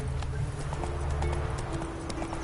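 Horse hooves clip-clop in a quick, steady rhythm in a video game, mixed with low background sound and a faint voice.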